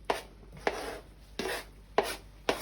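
Knife chopping peppers on a cutting board for tacos: five distinct, fairly sharp chops at an uneven, unhurried pace, each with a brief scraping tail, close up with no talking.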